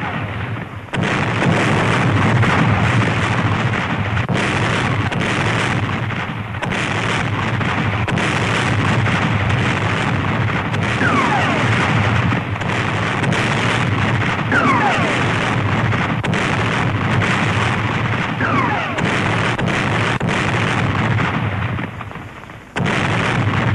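Mortar shells explode in a war TV drama, with repeated heavy booming blasts and rumbling bursts filling a long stretch of loud, continuous battle noise.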